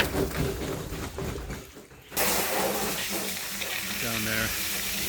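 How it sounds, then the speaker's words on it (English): Water rushes and splashes while a plastic container used for picking prickly pears is rinsed outdoors, a steady close hiss with a brief pause, then louder running water and some clattering. "Wash well, rinse, wash well again, and rinse again."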